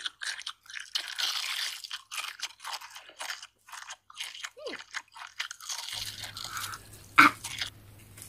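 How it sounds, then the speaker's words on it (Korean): Bone-in fried chicken is bitten with a few crisp, close crunches and chewing noises, separated by quiet pauses and followed by a short sharp clack near the end. "이게 순살이 아니라 뼈 있는 치킨이에요. 먹어볼게요."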